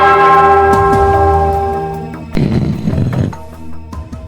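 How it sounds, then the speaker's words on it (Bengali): A bell struck in a cartoon gives one resonant, ringing tone that slowly fades over about two seconds, followed by a short burst of clattering noise. "ওই ঘন্টাটা বাজাও, বাজাও।"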